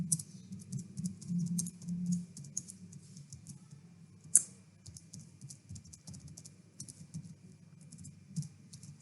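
Computer keyboard typing during a typing test gives steady, fast, light key clicks, close and fairly quiet, with one sharper louder tap partway through and a low hum underneath.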